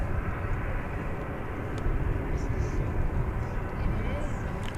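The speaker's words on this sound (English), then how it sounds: "Looks like flight 2205 to San Antonio, Texas, an Airbus A321." An Airbus A321 airliner at DFW Airport produces a steady, loud broadband engine roar that fills the whole stretch without letting up, like a jet rolling or climbing nearby.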